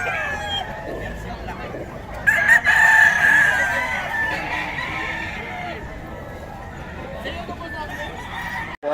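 Lemon Sweater gamefowl rooster crows once loud and close, a drawn-out call rising over steady background chatter from several people talking nearby.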